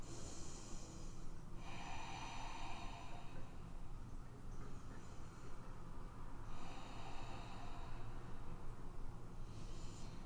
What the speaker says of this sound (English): Take 3 rounds of breath here.